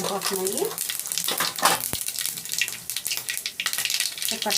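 Mustard seeds and cumin sizzle in heated oil, a bright crackling hiss peppered with quick pops and spatters, close and lively, with a sharp knock partway through.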